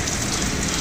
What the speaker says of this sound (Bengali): দেখুন কত জোরে বৃষ্টি হচ্ছে।